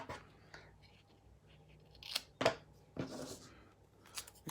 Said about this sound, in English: if you go over with your tape, you need to cut it off